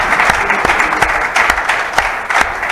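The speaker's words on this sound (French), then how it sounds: "Si nous pouvons l'encourager avec des applaudissements." Steady applause from an audience at a French book launch, sustained across the whole stretch with a few sharper loud claps standing out.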